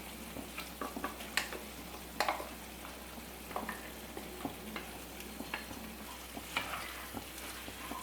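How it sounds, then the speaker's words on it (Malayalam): Ground paste being stirred into a mixed vegetable kurma in a pan, Saravana Bhavan-style white kurma, with repeated scraping and clattering stir strokes over a soft, steady sizzle, close and fairly quiet. "ഒന്ന് ഇളക്കി കൊടുക്കാം."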